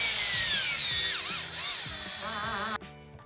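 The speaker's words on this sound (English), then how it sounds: "I'm going to grab my drill. I'm going to run a screw in one of the two holes directly below my diverter valve" A cordless drill drives a screw into wall blocking behind a Delta shower diverter valve, its motor whining and slowing under load in one continuous run before stopping abruptly near the end.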